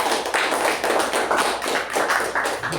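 A room of Toastmasters club members claps together, producing a continuous, even patter of many hands at a fairly loud, close level, with no voices over it.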